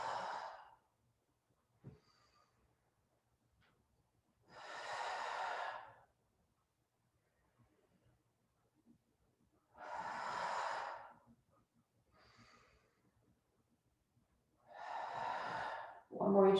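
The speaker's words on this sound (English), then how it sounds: "Breathe in, exhale." Slow, deep breaths during a yoga exercise: three or four long audible exhales or inhales about five seconds apart, each lasting over a second, with near-silence between them and no talk.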